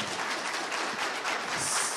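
Steady audience applause during an Oklahoma gubernatorial debate, a dense, even wash of clapping hands from a crowd in a hall, sustained throughout without speech.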